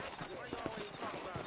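Horse hooves clip-clop in a steady uneven rhythm in a Western-style video game, close by and moderately loud under a bed of game ambience, with a voice talking over it.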